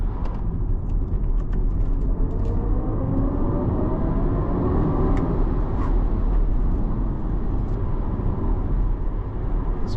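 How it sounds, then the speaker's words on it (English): BMW iX1 xDrive30 electric SUV accelerating hard in boost mode from about 25 mph, a steady loud low rumble of road and motor noise from inside the cabin, with faint ticks and no talking. "You literally get pinned to your seat and the car just shoots off."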